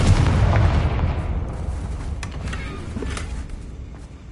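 Confringo blast spell cast in Hogwarts Legacy: a deep booming burst that opens loud and rolls off into a rumbling decay, with a few faint crackles trailing after.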